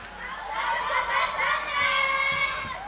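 A school audience of students cheers and shouts excitedly at a student council (OSIS) candidate debate at MTsN 1 Kota Kediri, with a crowd roar that swells and holds for the support team of candidate 2.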